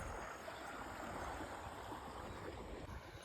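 Irrigation water runs through a farm field sown with ajwain, heard as a faint, steady rushing wash with no voices.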